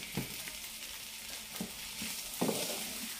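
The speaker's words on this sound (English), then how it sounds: "So I'm going to let these fry" Food sizzling in a home kitchen pan while mac and cheese and soup are made, a steady bright hiss with a few louder low stirring bumps near the start, middle and end.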